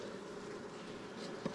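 Honey bees buzzing in a hive cell builder during queen rearing, a faint, steady droning hum from close by with no voices.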